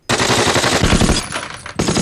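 Rapid, dense rifle fire on a training firing range, a loud continuous volley of overlapping shots that briefly thins near the end before surging again, close and without speech.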